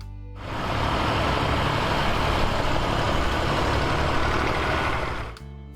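A Massey Ferguson 35 tractor engine runs at a steady idle, a constant rough low rumble that starts and stops abruptly, fairly close and with no talking.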